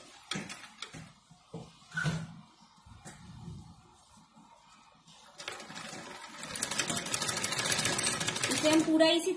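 Someone talks at first over faint clicks. Then a sewing machine starts stitching old lehenga fabric, a dense, fast mechanical chatter that grows steadily louder and keeps running to the end.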